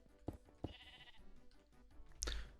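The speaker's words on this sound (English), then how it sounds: "Sheep." Sheep in a Minecraft modpack game bleat twice in quick succession, fairly near and clear, with another bleat rising near the end over a steady game background.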